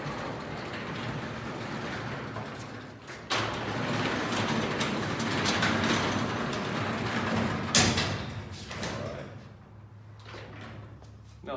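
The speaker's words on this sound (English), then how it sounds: "First time you open up a door, nice and slow. Listen for any problems." A garage door is opened slowly, its rollers with busted bearings giving a continuous grinding, rumbling rattle for about eleven seconds, with a few sharper knocks and clunks along the way.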